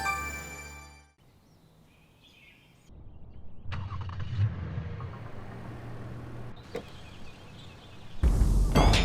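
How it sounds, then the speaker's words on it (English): A car engine is started by remote, a short mechanical crank catching into a low, steady idle close by, with faint bird chirps outdoors and a brief click at the end. "Did you start the car?"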